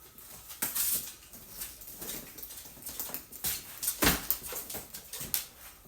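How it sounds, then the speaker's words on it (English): Dogs pacing around a person who is eating, soft scattered paw pattering and small clicks with faint intermittent whimpers, close and quiet, no talking. "the dogs are pacing because they know I'm eating"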